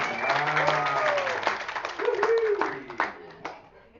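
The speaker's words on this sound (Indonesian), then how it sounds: "tepuk tangan untuk Pak Firman" Scattered clapping for a man named Pak Firman at a small gathering, individual hand claps close by mixed with voices talking and calling out over them, fading toward the end.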